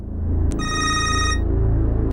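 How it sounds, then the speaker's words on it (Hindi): An incoming call rings on a telephone in a bright electronic tone lasting just under a second, standing clearly above a steady low hum, with a short click just before the ring. "आने वाली ये टेलीफोन कॉल एक शनासा की थी।"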